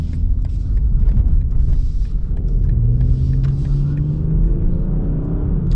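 A 2020 BMW 840i xDrive Gran Coupe drives on a slippery winter road. A loud, steady engine rumble fills the cabin as the engine tone slowly climbs and shifts.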